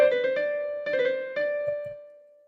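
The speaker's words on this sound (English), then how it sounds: "When a turn is put on top of a note, it will be played by 4 notes: the upper note, original note, lower note, and the original note." A melodic turn ornament, four quick notes of upper, main, lower and main pitch, played on a keyboard-like instrument, followed by a held note that rings on and gradually fades, clear and alone.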